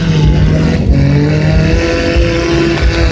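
Demolition derby cars at a county event in Vankleek Hill, loud engines revving and driving, rising and falling exhaust tones overlapping close by with rough low rumble.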